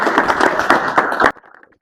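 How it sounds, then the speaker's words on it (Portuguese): Audience applause at a Portuguese-language speaking competition session, a brief burst of close clapping that stops abruptly after about a second and a half, leaving faint scattered claps. "Uma salva de palmas para o Vitor Calungo."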